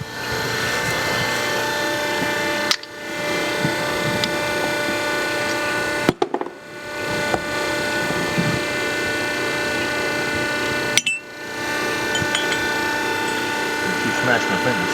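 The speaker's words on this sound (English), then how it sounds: "You can hear the jack. This is a 2-stage jack." A two-stage jack being pumped to lift an engine cylinder gives a steady, close mechanical ratcheting and grinding drone, broken by three brief pauses, with faint talk in the background.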